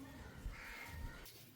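A crow caws on a rooftop, its harsh calls faint and somewhat distant against low ambient noise, with one clearer caw near the middle and a brief rustle toward the end.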